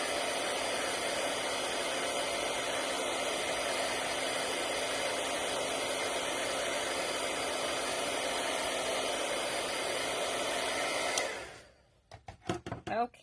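Heat gun blowing steadily and loudly for about eleven seconds while embossing powder is melted on a Christmas card, then cutting off abruptly, followed by brief handling noises.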